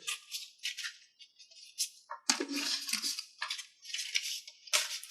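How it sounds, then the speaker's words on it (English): Someone shuffles a large 78-card tarot deck by hand, giving dry papery riffles and slaps in short, uneven bursts with quiet gaps between them. The sound is close and fairly soft. "78 cards is a lot of cards to shuffle, and this is a big deck, so bear with me."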